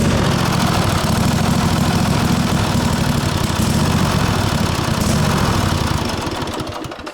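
A cheap, fairly standard lawn mower engine runs at a steady loud idle, its small motor chugging continuously up close before the sound tapers off near the end, with no voices.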